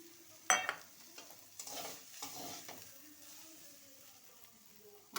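Eggplant slices frying with gima leaves in a pan: a sharp utensil knock on the pan, then soft stirring scrapes over a faint, steady sizzle, quiet and close.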